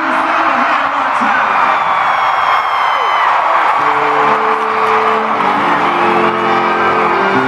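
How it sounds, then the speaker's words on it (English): A loud concert crowd in Charlottesville, Virginia roars and whoops continuously, a dense, sustained wall of cheering and yelling, with music entering partway through. "this is by far the loudest crowd of this tour"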